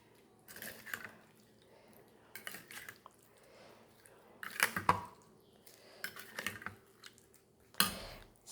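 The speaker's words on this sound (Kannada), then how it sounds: "ಕರಿಬೇವು ಹಾಕಿ ಇದನ್ನೆಲ್ಲ ಮಿಕ್ಸ್ ಮಾಡೋಣ." Egg curry with curry leaves gets stirred in a pan: a spoon scrapes and clinks against the metal in several separate bursts with short quiet pauses between, close and fairly soft.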